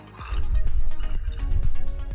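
A canned cocktail glugs into a glass in a quick series of close, rhythmic pouring gulps and splashes, heard alone.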